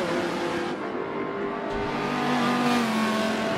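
Race car engine in Forza 7 at Brands Hatch holds a steady, loud drone with rising and shifting pitch as the car runs through corners, tyres faintly audible beneath.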